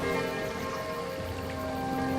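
Steady rain falling in the side-scrolling strategy game Kingdom, a continuous even patter of drops over a soft layered musical drone, with no speech.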